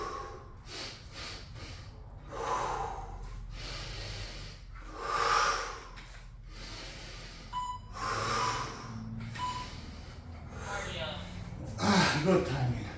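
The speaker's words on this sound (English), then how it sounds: "Breathing." Heavy, ragged breathing with gasps and snorting exhales during a garage workout, loud and close, coming in repeated bursts with brief pauses, and occasional mumbled sounds mixed in.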